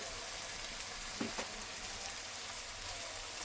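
Turmeric and chili powder spices frying in a pan for dhaba-style paneer paratha: a soft, steady sizzle with a few small stirring clicks, fairly quiet and close, no talking.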